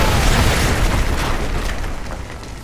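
Danger-close artillery strike in Call of Duty Modern Warfare II, a dense, continuous roar of booming blasts and rumbling debris that stays loud throughout and eases slightly toward the end.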